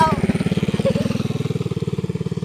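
A voice imitates a revving motorcycle, a rapid steady put-put pulse of lip-buzzing engine sound held for a couple of seconds, close and fairly loud.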